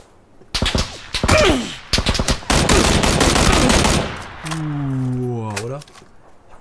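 Gunfire in PUBG: loud bursts of rapid automatic shots and single cracks close by, followed by a humming tonal sound, with a voice talking in between.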